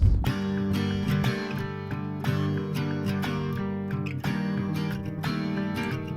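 Several layered electric guitar tracks processed through a plugin and played together, with the Enya Nova Go SP1 guitar featured, form a dense, sustained chordal wall with steady strummed attacks, loud and continuous throughout without any voices.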